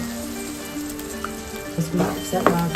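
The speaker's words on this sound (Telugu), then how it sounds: "సో మనం ఈ స్టేజ్లోనే మనం టమాటో ప్యూరీ వేసేసుకుంటాం." Prawn curry sizzles steadily in a pan as tomato puree goes in, the constant frying hiss broken near the end by a few louder splutters and stirring bumps.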